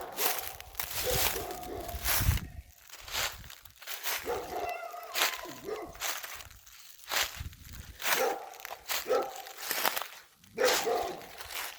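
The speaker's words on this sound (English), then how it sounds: "Now we upset the neighbor's dog, so we're gonna start our retreat here." A neighbor's dog barks repeatedly in a forest, with irregular bursts at moderate distance mixed with rustling footsteps on the woodland floor.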